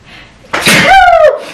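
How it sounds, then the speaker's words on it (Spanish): A single loud sneeze bursts out suddenly with a sharp intake and a rising then falling vocal cry. It comes from a woman mid-talk about cosmetics, heard close and alone. "Voy a estornudar."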